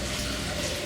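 Water from a Japanese ryokan hot spring runs down steps into the bath, a steady, close, even splashing flow over a short stretch.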